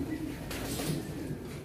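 A racing pigeon coos softly in a low, steady murmur, close but faint, with a brief rustle partway through and no clear speech.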